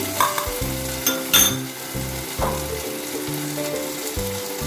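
Ginger and chili paste sizzling in hot oil for a Bengali dal tempering, a close, steady frying hiss with stirring, alongside a low repeating musical background.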